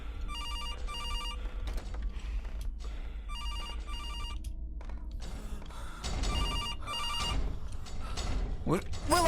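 A telephone rings repeatedly in the video game CASE 2: Animatronics Survival, bursts of bright electronic trills in a regular pattern, with people talking over it and mechanical clatter in between.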